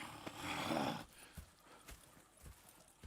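Horses at a camp in the video game Red Dead Redemption 2, heard as a brief rushing burst followed by scattered soft hoof clops and shuffles, fairly quiet and close by.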